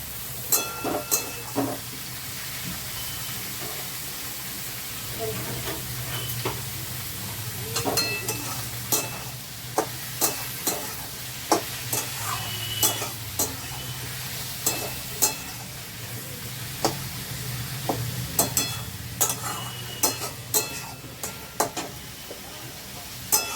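Tomatoes and mushrooms sizzle steadily in a hot pan while a spoon stirs them, giving repeated sharp scrapes and clinks against the metal over a constant low frying hiss, close up and without speech.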